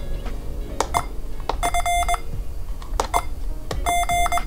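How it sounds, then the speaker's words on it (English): A PUTIKEEG Morse code trainer plays character beeps: short and longer steady electronic tones in two quick groups, mixed with sharp clicks, close and clear. "hear the character played back in Morse code."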